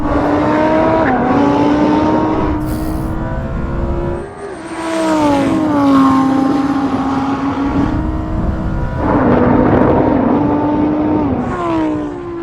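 Lamborghini and Nissan GT-R drag racing a standing quarter mile: a loud, close engine revs hard and climbs through repeated gear changes, each upshift dropping the pitch before it rises again. No talk.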